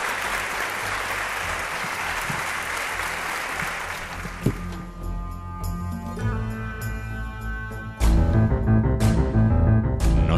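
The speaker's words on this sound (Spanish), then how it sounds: "Milagros Álvarez Sosa, os pido un aplauso para ella." A television studio audience applauds for about four seconds. The clapping fades into quiet music, and louder music comes in near the end.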